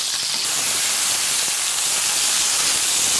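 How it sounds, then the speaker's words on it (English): A beef roast sears in a hot pan with a steady, loud, unbroken hiss that holds evenly throughout. "There's about another 5 minutes to sear the final side"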